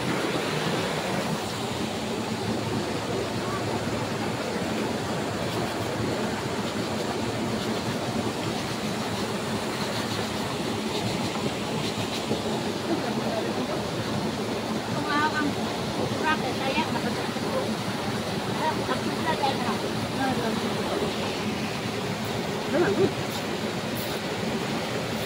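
Steady broadband rush of river water flowing at a spring in the provincial countryside, where laundry is washed in the river; continuous and fairly loud throughout, with a few faint voices and light splashes mixed in.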